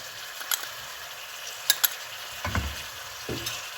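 Mutton frying in a pan with green chillies for a pepper sothi, a soft sizzle running throughout under scattered scraping and stirring knocks, with a heavier stir near the middle and another toward the end; no talking.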